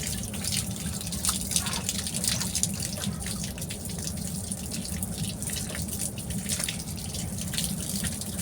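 Fish pieces scrubbed and rinsed under running water in a sink, a steady splashing, dripping stream with low rumble, fairly close and continuous, no talking.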